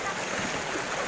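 A swift river current rushes along in one broad, steady wash of water noise, close and loud, with no pause across the moment.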